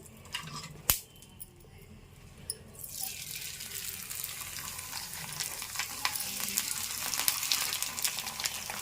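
Sago vadiyalu hiss and sizzle in hot oil, starting with a sharp knock and then swelling into a steady, crackling fry that holds for several seconds.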